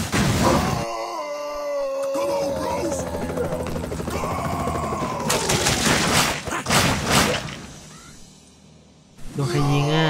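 Gunfire and explosions from the run-and-gun video game Broforce fill the clip loudly and continuously, with a player's excited voice shouting over the dense barrage.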